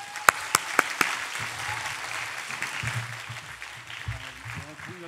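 Congregation applauding to welcome a missionary to the pulpit at a Korean church's afternoon worship service, a few sharp claps at first, then a steady, moderate patter of applause with some low background murmur.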